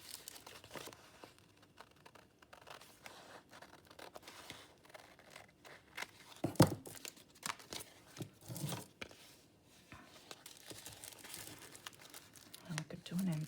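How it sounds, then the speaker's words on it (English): Scissors cut through sheets of pianola paper in a series of quiet snips and crinkles, with a few sharper cuts standing out against low, soft handling rustle. "the scissors on, grab these ones. So what I might do is just cut it down this way"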